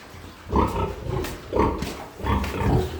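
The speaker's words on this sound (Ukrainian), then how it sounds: "Ось зайшло поросятка теж." Pigs and a piglet in a pen let out three or four loud, close, rough grunts at a loose, uneven rhythm, with quieter snuffling between them and no talking.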